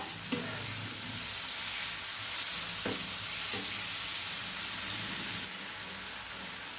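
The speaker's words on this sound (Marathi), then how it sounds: "आणि हे सर्व आपल्याला छान मिक्स करून घ्यायचे बघा कांदा आणि टमाटा छान सॉफ्ट झाला पाहिजे ना आपला" Onion and tomato frying in a pan as they are stirred, a steady close sizzle throughout with occasional scrapes of the spoon, and no one speaking.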